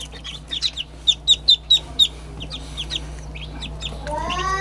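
Newly hatched chicks peep in a quick run of sharp, high chirps that cluster near the start and then turn softer and sparser, close by and with no talk over them.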